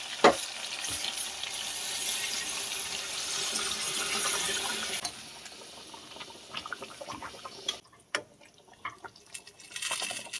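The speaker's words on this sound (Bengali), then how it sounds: "এই গরম জলটা এবার দিয়ে দেবো।" Hot water poured into marinated meat cooking in a pan, a steady hissing, sizzling pour for about five seconds that drops to quieter bubbling and a few faint clinks.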